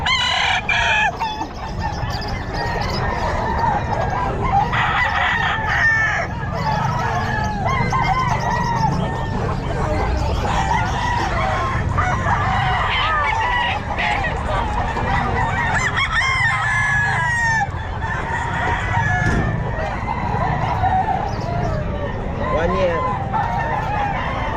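Sweater gamefowl roosters crow repeatedly at a busy pet market in Bocaue, the calls overlapping with clucking and honking geese, while people talk throughout.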